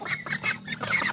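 Month-old ducklings call with quick, repeated quacking peeps in close, lively bursts with short gaps between them, and no voices over the calls.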